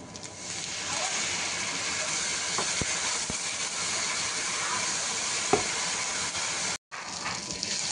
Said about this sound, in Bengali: পেঁয়াজ কষানো হয়ে গেছে।